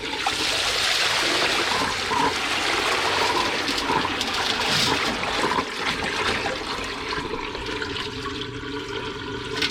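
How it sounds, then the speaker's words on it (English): Tap water poured off silver granules during silver refining, a continuous close splashing and trickling pour of liquid running steadily for several seconds, with no speech. "carefully pour off this tap water and get that silver out of there"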